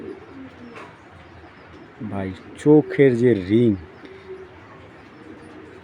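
A breeding racer pigeon at a loft gives a short run of wavering, throaty coos close by, while someone talks before and through the calls.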